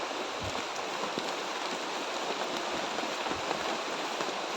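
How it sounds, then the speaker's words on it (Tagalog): Heavy rain pours down in a dense, continuous hiss, steady and loud with no pauses. "Kahit malakas yung ulan. Naabutan tayo ng ulan ngayon."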